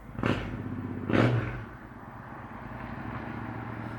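A motorcycle passing outside, with two loud bursts followed by a steady engine drone that fades into a low rumble; no voices.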